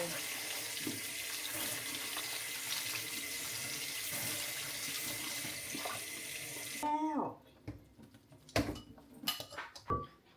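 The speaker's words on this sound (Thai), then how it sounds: "ทั้งหมดเปิดน้ำเย็นใส่" Cold tap water pours steadily from a faucet onto cooked dried rice noodles in a sink, a broad continuous rush for about seven seconds that then cuts off, followed by a few clinks and handling knocks.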